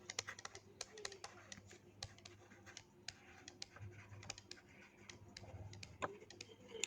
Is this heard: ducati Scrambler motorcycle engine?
no